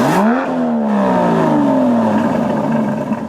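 An Aston Martin DB11 in Grand Touring mode revs sharply once, its exhaust climbing in pitch before settling back into a smooth, fading burble, loud and close with no talking.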